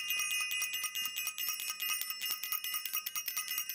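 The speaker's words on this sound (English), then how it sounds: "Let me ring the bell." A small bell is rung rapidly and repeatedly, a bright metallic ringing with quick strikes that keeps going through the whole stretch, close and clear with no talking.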